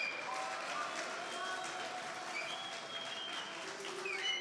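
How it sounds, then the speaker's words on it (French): An audience at a talk in a hall applauds steadily, a faint, distant wash of clapping that lasts throughout. "Merci Boris Lombard, vous pouvez l'applaudir."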